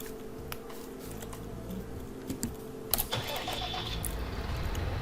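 A tractor engine in the Farming Simulator 19 video game cranks and catches, then settles into a steady low idle over a continuous mechanical drone, with no talking.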